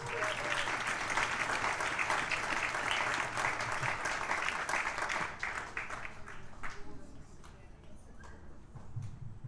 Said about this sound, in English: Let's give BJ a round of applause.